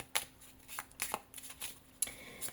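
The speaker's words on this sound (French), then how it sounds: "je vais retirer 3 autres cartes pour clôturer le tirage" Tarot cards riffled and drawn close up: a handful of quick papery flutters and sharp snaps in uneven bursts, fairly quiet, with no talking.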